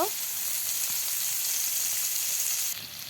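Potatoes sizzle in hot oil in a village kitchen, a continuous close, bright frying hiss with faint stirring taps, steady and even with no talking.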